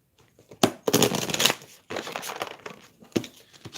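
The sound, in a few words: cutting and shuffling an oracle card deck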